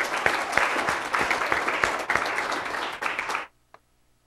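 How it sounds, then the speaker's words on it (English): An audience at a forum event gives a round of applause, a dense burst of many hands with sharp individual claps standing out, holding steady for about three seconds before stopping abruptly, leaving near silence with one faint late clap. "let's hear a round of applause for them"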